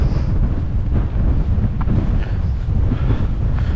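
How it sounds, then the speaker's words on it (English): Strong wind in a winter valley in Northumberland buffets the microphone in a constant, loud roar with no letup and no voices. "it's quite windy now"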